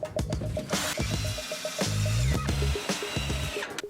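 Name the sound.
power screwdriver driving self-tapping screws into boards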